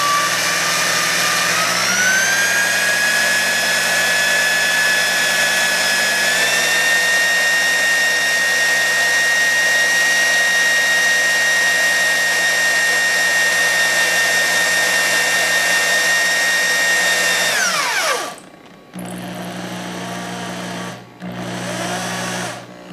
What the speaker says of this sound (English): all we're gonna do is just give the drill a little light spin to get it started